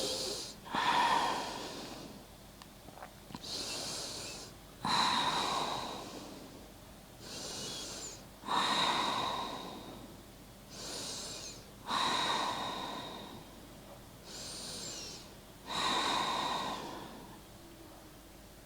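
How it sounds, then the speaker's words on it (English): Deep, slow yoga breaths rise and fall in a steady rhythm, about one full breath every three to four seconds, close and breathy with airy inhales and exhales and no talking. "Take deep breaths."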